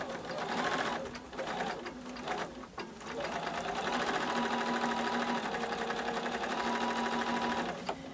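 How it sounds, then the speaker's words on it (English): Sewing machine stitching a quarter-inch quilting seam on fabric, a steady close whirring hum with rapid needle chatter running continuously after a brief start. "I'm just stitching a 1/4 inch seam all the way down"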